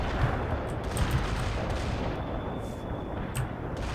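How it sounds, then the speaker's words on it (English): Artillery barrage in the real-time strategy game World in Conflict, with a steady roar of distant, rumbling impacts and scattered blasts continuing throughout, dense and layered rather than distinct single shots. "Launching and commencing the barrage."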